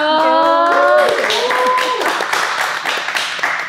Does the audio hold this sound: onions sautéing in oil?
no